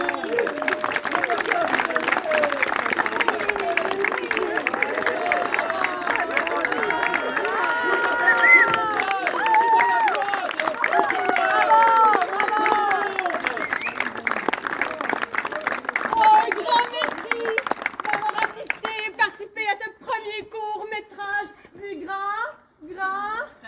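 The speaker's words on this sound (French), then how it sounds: "On les applaudit!" An audience applauds and cheers a mock bride and groom at a comedy show: sustained, loud clapping and crowd noise with voices calling out over it, thinning toward the end.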